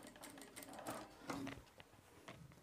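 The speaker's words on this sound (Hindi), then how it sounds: "अब इस पर लगाएंगे सिलाई।" A sewing machine stitches white thread along a shirt collar, running in steady bursts of fast mechanical chatter with brief pauses between runs, close and fairly loud.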